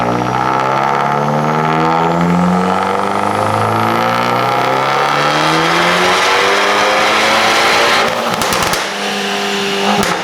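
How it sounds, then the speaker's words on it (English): An Abarth 695 70th anniversary hatchback with a tuned engine map revs hard on a dyno, a loud sustained engine note climbing steadily in pitch for several seconds, then a brief rattling drop and a renewed rev at the end. "Let's do a dyno and we'll show everyone."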